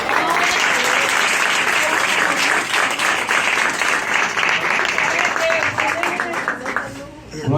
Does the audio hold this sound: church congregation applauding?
yes